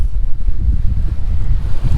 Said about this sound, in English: It is very nautical out here today. It is windy.